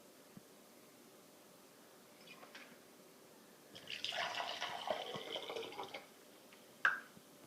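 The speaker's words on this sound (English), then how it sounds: "So I'm going to put a half cup of vinegar in each of these cups." Vinegar poured from a measuring cup into a cup for a baking soda experiment, a quiet trickling pour lasting about two seconds, with a few faint drips and a small clink afterward.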